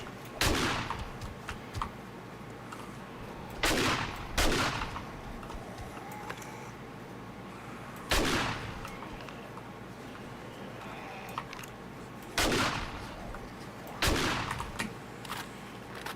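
Gunfire in the game 7 Days to Die: several separate loud shots, some in quick pairs, with pauses between them over a low steady background hum.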